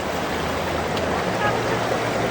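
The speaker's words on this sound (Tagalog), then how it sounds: "Nakakatakot lang kasi yung tubig, malakas pa din" Continuous rushing of strongly flowing river water, a dense steady wash with no clear voices.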